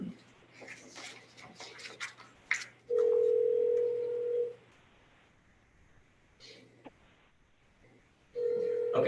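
A telephone tone from a call on a home phone sounds in two long, steady, loud beeps separated by a gap, over a faint constant hum and some light room noise.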